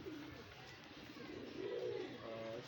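A pigeon coos softly and close, with a few low, rolling throaty calls over a steady background hiss.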